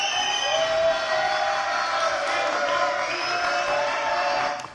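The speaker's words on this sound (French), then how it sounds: "Voilà, applaudissements." A studio audience cheers and whoops on a French television entertainment show, a loud sustained roar of voices that fades at the end.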